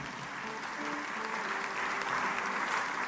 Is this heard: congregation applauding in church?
yes